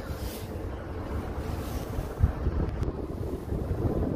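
Strong wind at sea buffets a boat near Húsavík on Iceland's northeast coast, a continuous low rumbling roar of gusts on the microphone with faint water and engine wash beneath, no speech.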